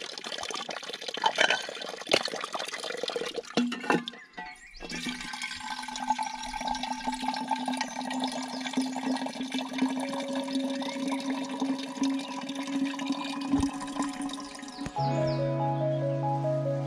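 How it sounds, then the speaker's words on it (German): Water runs from a small outdoor fountain into bottles during a cycling trip in Italy, a continuous splashing stream whose pitch rises as each bottle fills, close up with no talking. "Und deswegen bin ich da jetzt ziemlich froh, meine Flaschen wieder auffüllen zu können."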